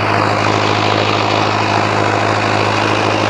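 A Mahindra 605DI-MS Arjun Novo 4x4 tractor drives an 8-foot Shaktiman rotavator through soil, its engine a loud, steady, close drone that holds unbroken throughout with no talking.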